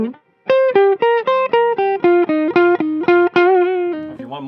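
Clean electric guitar notes from a 1998 Gibson Les Paul Mickey Baker signature three-pickup model set for a jazzy single-coil neck tone, a steady run of about a dozen evenly picked, ringing notes played alone, close and fairly loud.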